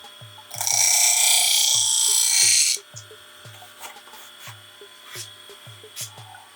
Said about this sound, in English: All we're polishing is that secondary bevel there.